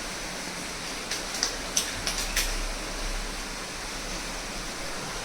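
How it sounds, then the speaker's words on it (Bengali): Heavy torrential rain pours down outside a flooded flat, a steady broadband hiss with a few faint close knocks and taps early on and no talk. "মুষলধারে বৃষ্টি হচ্ছে।"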